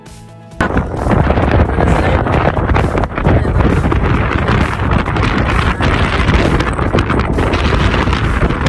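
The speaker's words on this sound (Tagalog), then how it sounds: "Sobrang lakas ng hangin dito sa first na mountain." Very strong wind roars across the top of Kjerag mountain in Norway. It buffets the microphone with loud, continuous rumbling gusts after a brief quieter start, and no voices break through.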